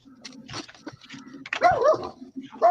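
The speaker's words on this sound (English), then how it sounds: "What are you barking at?" A dog barks and yips in short bursts at close range, mixed with whimpering, while a person's voice is faintly audible alongside.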